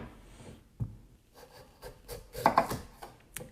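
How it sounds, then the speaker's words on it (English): A kitchen knife cuts carrots into half moons on a wooden board, giving several uneven chops and scraping cuts of moderate loudness up close, with no talk. "So for these guys, I like to cut them into half moons"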